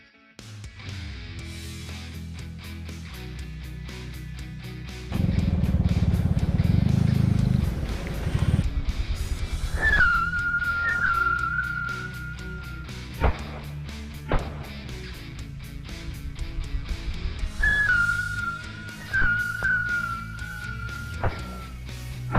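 Tikus tanah ground-spinner firecrackers, several lit at once, hiss and whirl in a loud sustained burst, followed by sharp pops and whistling squeals trailing off outdoors.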